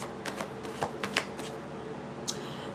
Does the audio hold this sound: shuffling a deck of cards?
yes